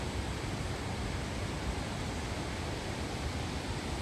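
A flash-flooding river rushing through a Grand Canyon side canyon, a steady, dense roar of water from a distance with no breaks, heard alone.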